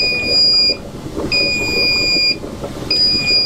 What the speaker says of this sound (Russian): Сейчас подождем, когда автоматика подаст сигнал, чтобы закрыть вот этот кран.